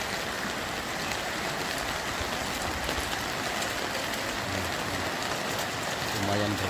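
Heavy rain pours down during flooding in the town of Lahat, making a dense, unbroken hiss that stays loud and even from start to finish.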